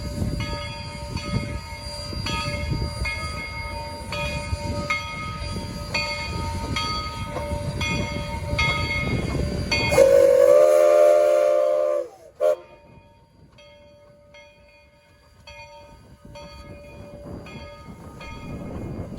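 Steam locomotives shuttle around the shops at a gathering of Victorian locomotives, with a steady rolling rumble, a long loud whistle blast partway through, and a short sharp burst before the train sound fades lower.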